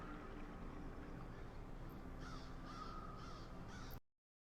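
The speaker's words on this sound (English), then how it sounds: "Damn crows!" Crows caw in the video game Saint Kotar beside an old boat, four harsh calls repeating in quick succession over a steady, murky ambient background.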